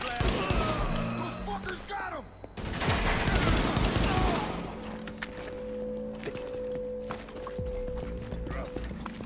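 Gunfire in a Tom Clancy's The Division side mission, a fired pistol among bursts of shots, shattering and mechanical clatter, with a loud flurry early on, then quieter sparse pops over a low hum.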